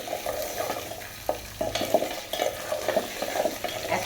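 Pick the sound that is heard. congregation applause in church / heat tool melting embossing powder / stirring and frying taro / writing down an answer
stirring and frying taro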